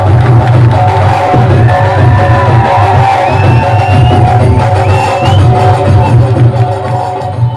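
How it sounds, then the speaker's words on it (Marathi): A loud crowd at a bodybuilding competition in Bhusawal roars and cheers continuously, with yells and whoops over a heavy, distorted hum and the steady wash of applause. "जोरदार टाळ्या"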